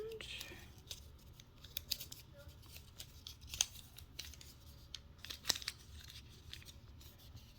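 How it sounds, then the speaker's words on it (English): A small slip of paper is picked out and unfolded: soft, faint crinkles and a few sharp crisp snaps of paper under quiet room noise. "I still have these little slips of paper here. I'm gonna pick one and gonna open it up"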